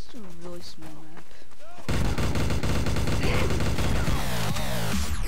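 Rapid gunfire in Garry's Mod Gun Game on a small map erupts after a few seconds of voices, then keeps going as a loud, dense, continuous barrage.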